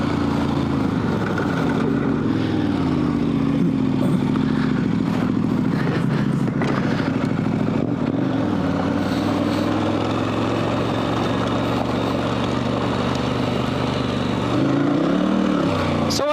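A dual sport motorcycle on Dunlop TrailMax Mission tires riding through deep sand, with a continuous, loud engine drone that rises and falls slightly, accompanied by steady wind rush.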